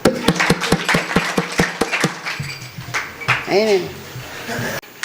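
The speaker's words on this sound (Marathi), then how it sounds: "टाळी वाजवा" A short burst of rhythmic clapping from an audience at a comedy talk, about a dozen sharp even claps, followed by scattered laughter and murmuring voices.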